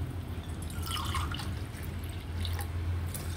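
Water is poured into a pot of meal maker (soy chunk) biryani, a soft continuous trickle with light splashes and drips under a low steady hum, fairly quiet and close.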